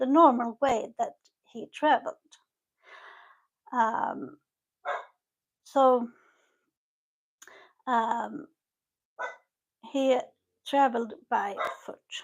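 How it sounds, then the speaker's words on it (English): A house dog guarding its home barks in short bursts, close by and mixed in among a person's steady narration. "You have to excuse my dog that guards the home with her life"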